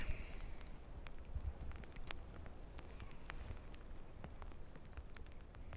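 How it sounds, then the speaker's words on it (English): Steady rain falls outdoors where someone is fishing, a dense close patter with scattered louder drops and faint wind, continuous and without talk. "Doesn't seem like the rain is stopping anytime soon"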